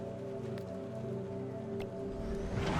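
A heavy downpour in the video game Dispatch, a dense, constant roar of rain hammering surfaces, with a couple of brief splashes and a louder gush swelling near the end.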